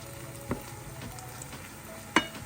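Garlic sautés in broth in a pan over medium-high heat, giving a soft, steady sizzle with two sharp clacks of a spoon stirring it.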